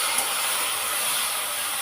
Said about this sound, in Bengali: প্রথমে চিংড়ি মাছগুলোকে ভালো করে ভেজে নেব।